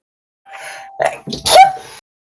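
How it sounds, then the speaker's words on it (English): A single sneeze, close by: a short breathy intake, then a sharp burst, with no talking around it. "Hang on, I need to sneeze."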